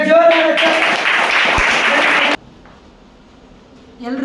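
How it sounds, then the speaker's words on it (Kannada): A studio audience at a Kannada quiz show bursts into loud, dense applause right after a brief voice, keeps clapping for about two seconds, then stops abruptly, leaving quiet room tone. "ಅವರಿಗೆ ಜೋರಾದ ಚಪ್ಪಾಳೆ"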